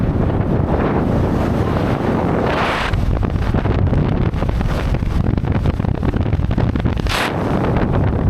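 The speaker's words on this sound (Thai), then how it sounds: "ลมแรงมากอากาศเย็น" Strong, cold wind roars continuously across the microphone on a rough mountain road into a forest village in northern Thailand, loud and close, buffeting in gusts with no talk.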